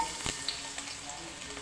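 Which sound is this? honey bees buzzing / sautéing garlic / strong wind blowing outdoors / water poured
sautéing garlic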